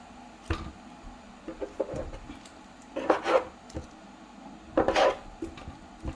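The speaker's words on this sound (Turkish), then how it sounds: "Hamuru kesiyorum." Lasagna dough being cut on a kitchen surface into six pieces, with soft scraping and tapping knife strokes, a few louder bursts, fairly close, no talking.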